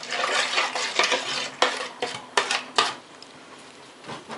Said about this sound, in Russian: Все это перемешиваем и даем настояться минут 15